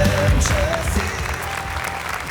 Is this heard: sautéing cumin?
no